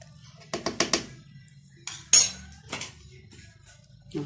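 A metal whisk or spoon clinking against a bowl while cake sauce with cocoa is mixed, a quick cluster of four strokes followed by a few louder, scattered clinks in a quiet kitchen.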